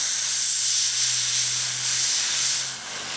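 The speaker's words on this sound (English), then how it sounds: "Never really done airbrushing on camera before" Close, steady hiss of an airbrush spraying paint onto a model part for panel lining, a continuous airy rush that holds level for about three seconds and eases slightly at the end, with a faint low hum underneath.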